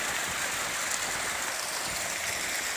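Steady rain pours on a mountainside as runoff water flows downhill, a dense, continuous hiss with no pauses, close and even throughout, with no voices.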